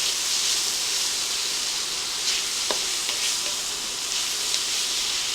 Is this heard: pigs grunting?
no